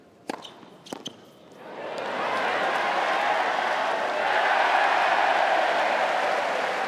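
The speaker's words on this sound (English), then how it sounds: "These guys will cheer at everything tonight." A tennis crowd at an Australian Open night match between Kyrgios and Khachanov breaks into loud, sustained cheering and applause. A couple of sharp hits come before it, and the roar swells and holds to the end.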